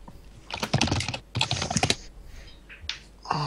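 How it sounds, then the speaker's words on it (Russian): Fast, furious typing on a computer keyboard, with dense clattering bursts of keystrokes broken by short pauses and a few isolated taps, close and clear. "Лам, почему ты так яростно что-то пишешь?"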